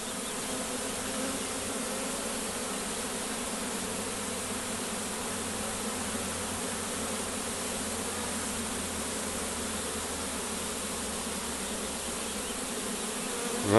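Bees swarm around a small hive entrance, giving a dense, continuous, close buzzing that holds steady for the whole stretch with no talk.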